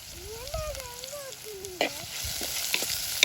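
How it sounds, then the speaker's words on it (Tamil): Fenugreek and ginger frying in a pan for a Jaffna-style tinned fish curry, stirred steadily: continuous close sizzle with scraping stir strokes and occasional sharp clicks of the utensil. "பச்சை மணம் போக நல்லா கலக்குவோம்."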